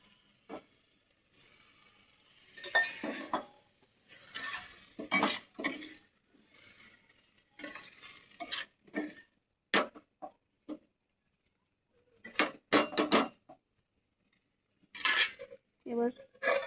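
Utensils scraping and clanking against a pot as food is mixed in a home kitchen, irregular bursts of metallic knocks and scrapes separated by short quiet gaps, close and clear, with no talk.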